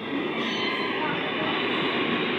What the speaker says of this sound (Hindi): देखिए लोकल ट्रेन आ रही है, मतलब मुंबई की लोकल ट्रेन